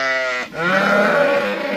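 Kangal sheep bleat in two close, loud calls, a short cry followed by a longer wavering one, with no talk over them.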